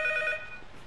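Short tail of a trilling telephone ring in the P.T. Silent Hills horror game, a bright warbling electronic tone that fades out after about half a second.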